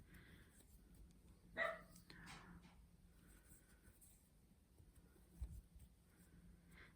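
Dogs in a home give a couple of short barks and yips at a distance, with a faint quiet room behind them.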